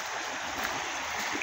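Heavy rainwater spills and overflows from a reservoir, making a steady rushing hiss at moderate distance with no pauses.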